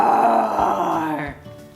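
A loud, drawn-out roar from a human voice imitating a big cat, growling and rough for about a second before fading into quieter sounds.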